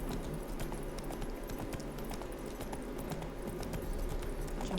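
Steady clip-clop of Roach the horse galloping in The Witcher 3 video game, a continuous rhythmic hoofbeat over a dense low background rumble, with no talking.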